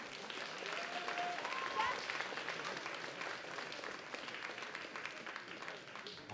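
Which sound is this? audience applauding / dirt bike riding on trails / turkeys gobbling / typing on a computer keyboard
audience applauding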